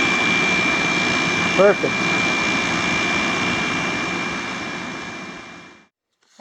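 An RV air conditioner runs with its compressor and fan going, a steady loud droning hum with a faint constant tone. A voice speaks briefly over it before the unit cuts off abruptly into silence.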